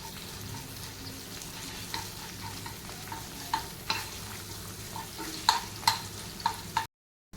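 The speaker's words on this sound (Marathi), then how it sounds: "आलं लसूण छान फ्राय झालं आहे" Ginger garlic paste frying in a pan with cinnamon, bay leaf and star anise for butter chicken, a quiet steady sizzle punctuated by repeated light taps and scrapes of a stirring spoon, ending abruptly in silence.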